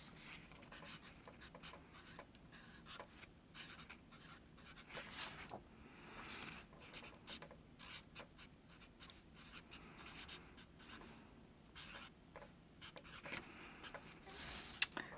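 A pen or pencil scratches across paper while electron configurations are written out by hand, a soft, close, continuous run of short strokes and pauses that goes on throughout.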